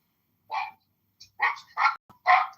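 A dog barks four or five times in short, sharp bursts, fairly close, with brief silent gaps between them and no talking.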